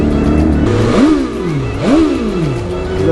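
A motorcycle engine revs hard on a night ride, two distinct rising throttle blips over a rough idle, loud and close with no talking.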